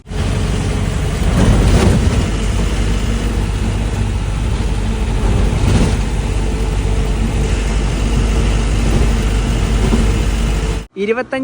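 Loud, steady engine drone inside a moving bus on the ride from Talguppa to Jog Falls, a continuous low rumble with road noise that cuts off abruptly near the end.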